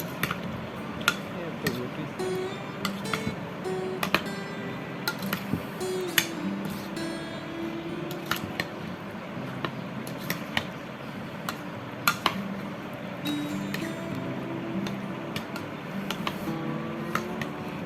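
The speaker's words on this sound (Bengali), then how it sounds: "এখন এই সব কিছুকে আমি ভালো করে মিক্স করে নিচ্ছি।" Ripe mashed mango being mixed with spices in a bowl, giving steady light ticking and clinking of a utensil against the bowl that repeats throughout, soft and close, with a voice talking over it.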